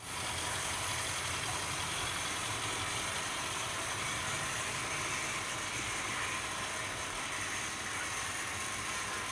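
A J50 model locomotive running slowly on a model railway, giving a steady, continuous mechanical rumble and hiss that holds at an even level with no talk.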